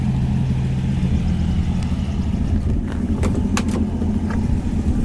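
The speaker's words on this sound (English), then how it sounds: "you can barely hear the car run. It seems to run excellent. Exhaust sounds good." A 1967 Ford Mustang engine runs with its exhaust droning in a steady low rumble throughout, fairly loud and constant, with a few light clicks near the end and no voices.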